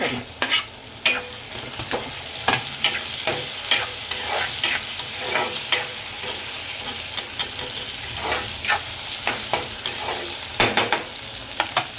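Chopped tomatoes and vegetables for a Marathi peas-and-potato dry dish sizzle steadily in a pan, with a spoon scraping and stirring in repeated sharp strokes close by.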